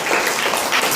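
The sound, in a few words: children clapping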